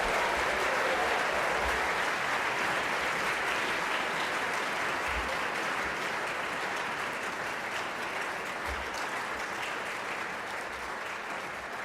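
Banquet audience at a high school all-sports awards night applauds Hall of Fame guests returning to their seats, a long, even wash of many hands clapping that eases slightly toward the end.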